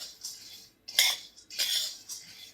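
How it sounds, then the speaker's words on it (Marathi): Charoli nuts roast in a pan as a metal spoon stirs them, making bursts of scraping and light clinking against the pan with short pauses between strokes. "चारोळे भाजत असताना एकसारखं हलवत राहायचंय असं"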